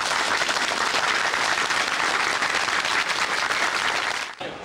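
Store staff applaud themselves on the final day of the Tokyu Nihonbashi department store in 1999: thick, steady clapping from a large group, loud and continuous, then cut off abruptly near the end.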